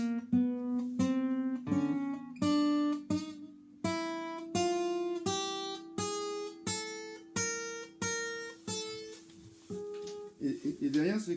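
Plucked guitar notes played one at a time in a steady, evenly spaced finger exercise across three strings, each note ringing briefly before the next, ending in a brief burst of talking at the close.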